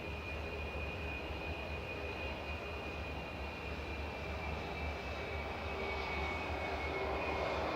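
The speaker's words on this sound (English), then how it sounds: "Shuttle 2 Lima is just taxiing in there. 21-year-old A320 Classic with flight 1370." An Airbus A320 Classic airliner, 21 years old, taxiing at Manchester Airport, with a steady, moderately distant engine roar and whine holding evenly throughout with no talking.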